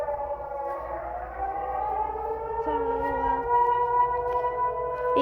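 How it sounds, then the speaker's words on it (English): An American tornado warning siren wails in a steady, sustained tone with slight pitch shifts, heard from a distance over faint background noise, with no one talking. "American tornado siren"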